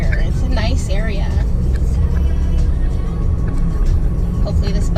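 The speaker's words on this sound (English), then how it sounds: "Hopefully this bus doesn't make any sudden moves" A bus drives along a hilly road near Jaco, Costa Rica, its engine a steady close rumble with traffic noise passing, while people talk throughout.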